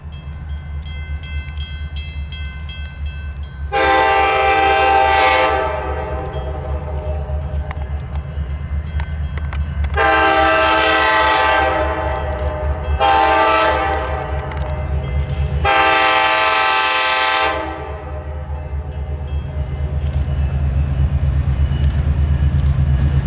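A train led by locomotives 216 and 252 rumbles past steadily at Intervale, New Hampshire, while its horn blows in several long, loud blasts, close by and dominating the scene.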